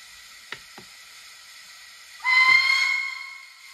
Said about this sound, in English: The next one is a short whistle.